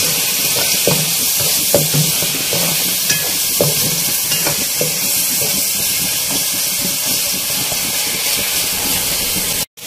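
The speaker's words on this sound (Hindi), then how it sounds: "इन सब चीज़ों को साथ में भूनेंगे" Black peppercorns and green chilies fry in a pan for a dhaba-style aloo methi matar sabzi, giving a steady close-up sizzle and hiss with occasional soft stirring knocks throughout.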